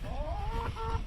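Chickens clucking close by in a backyard garden, a brief run of rising and falling calls lasting about a second against low rumbling background noise.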